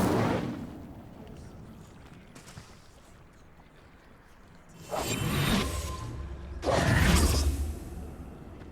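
Incendio fire spell cast in Hogwarts Legacy, two loud whooshing bursts of flame a couple of seconds apart over a low steady game ambience.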